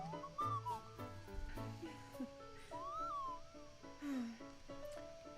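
Playful sliding whistle tones from a small round robot companion in Hyrule Warriors: Age of Calamity, rising and falling glides in short chirpy bursts over soft game music, with no talking.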